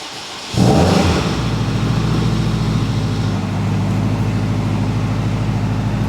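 A Honda Civic Type R FK8 with an AWD conversion and a fault under diagnosis starts up and settles into a steady, loud warm-up idle, a deep continuous drone close by with no voices.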